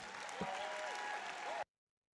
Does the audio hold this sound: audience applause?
yes